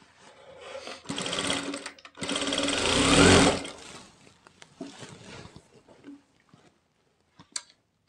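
An electric sewing machine stitches along the edge of palazzo pants in close whirring bursts, a short run and then a longer, louder one, followed by faint handling clicks and a quiet pause.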